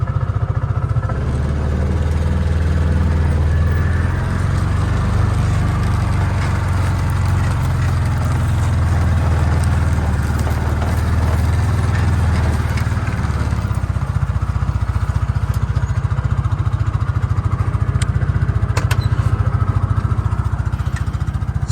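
A vehicle engine drones steadily while driving around a cold field, a loud, continuous low rumble with a constant rattle and no break throughout.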